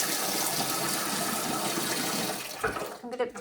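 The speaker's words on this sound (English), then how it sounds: "I'm just going to run a bit more water in here" Water from a tap pours steadily into a kitchen sink, a dense close rush that cuts off near the end, followed by a short voice and clinks.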